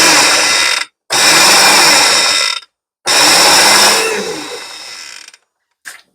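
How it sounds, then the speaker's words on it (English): A blender whirs loudly through apple butter ingredients in short pulses, two long bursts of harsh motor whine separated by silence, the second slowing and fading, then a brief blip at the end. "because I want to blend up the ingredients first"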